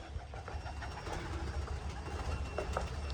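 A female white-eyed pigeon and others coo softly and repeatedly amid a busy, noisy background, the low burbling calls blending with constant rustle.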